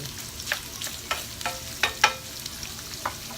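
Shrimp fry in a hot pan with a constant crackling sizzle, and sharper spatters and stirring scrapes pop up every half second or so, close and fairly loud.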